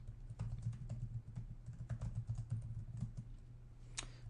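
Keys clatter on a computer keyboard as a switch password is typed in. The clicks are quick, irregular and quiet, with a low hum from nearby equipment underneath and no talking.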